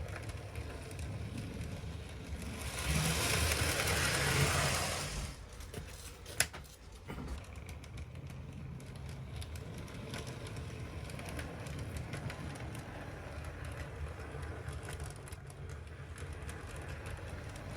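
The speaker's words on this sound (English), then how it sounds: "Next up was the Graham Farish Class 37, which was my biggest loco in the test." Graham Farish Class 37 model locomotive rolling over curved Setrack points, a quiet whirring rumble with a brief louder burst early on and a faint click, continuing softly to the end.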